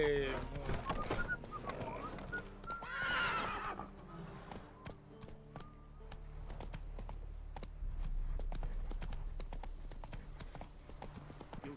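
Roach, a horse in The Witcher 3, gallops with rapid rhythmic hoof clip-clops and lets out a loud whinny near the start. A voice talks over the hoofbeats.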